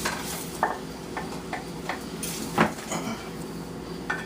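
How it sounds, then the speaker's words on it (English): Tomatoes go into a pot of jambalaya vegetables, bringing scattered soft clinks and scrapes of stirring and pan contact, with a louder knock near the middle and a faint steady sizzle underneath. "And now we add in the tomatoes"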